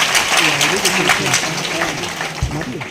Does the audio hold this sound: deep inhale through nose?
no